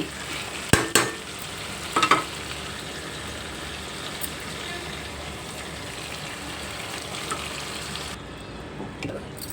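Spicy Andhra-style mutton fry sizzles and crackles steadily in a pan while it is stirred. A few sharp clinks of the utensil against the pan come early on, and the frying continues close and even throughout.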